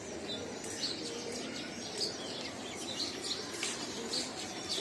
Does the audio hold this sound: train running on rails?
no